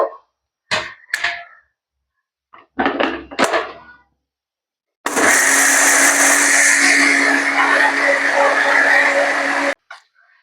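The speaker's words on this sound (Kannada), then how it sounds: "ಈಗ ನೀರ್ ಹಾಕಿ ಇನ್ನೊಮ್ಮೆ ಇದನ್ನ ನಾವು ರುಬ್ಕೋಬೇಕು" A mixer grinder blends tomato dosa batter with rava and added water, starting as a loud, steady whirring grind that runs about five seconds and then stops, preceded by brief bits of talk.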